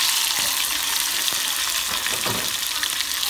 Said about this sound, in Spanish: donde doré mis chiles, aquí mismo voy a agregar lo que es el jitomate